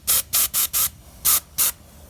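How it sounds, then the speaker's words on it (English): Six short bursts of spray finish applied to the propeller of a model wooden float plane, each hiss about a fifth of a second long, close and loud against a quiet background. "Make sure you also spray your propeller"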